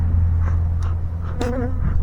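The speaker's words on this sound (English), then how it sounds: "Them bees with attitudes make honey." A swarm of honey bees hums steadily and loudly up close, a dense continuous drone with individual bees zipping past the microphone.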